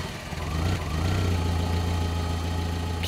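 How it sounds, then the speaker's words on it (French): A car engine idles steadily at night in a parking lot, a low continuous rumble with a faint vibrating hum, moderately close and alone, with no voices. "le son d'un moteur attira son attention"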